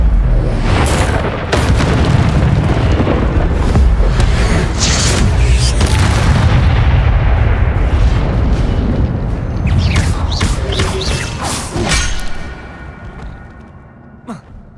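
Repeated Incendio fire spell blasts in Hogwarts Legacy, a dense run of loud booming bursts and crackling flame layered over continuous combat noise, thinning out toward the end.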